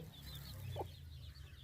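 Native one-month-old lineage chicks scratching in soil give a single short chirping cluck close by, over a steady low rumble with no other sounds.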